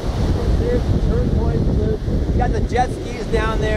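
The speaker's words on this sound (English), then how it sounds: "Now the waves are pretty good." Ocean waves at Karon Beach in Phuket, Thailand roll in a steady broadband wash with wind buffeting the microphone, continuous and fairly loud while someone talks over it.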